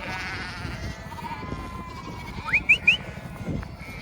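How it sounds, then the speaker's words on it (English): A Herdwick lamb bleats faintly in a few wavering calls over outdoor background noise on a fell, with a few short chirps heard near the end. "Oh look, there's my little Herdwick lamb."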